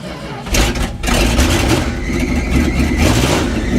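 Pickup truck engine cold start, either a 1973 Dodge W200 or a 2001 Ford F250: the engine catches after a short pause and settles into a loud, close, rough running roar with slight revving.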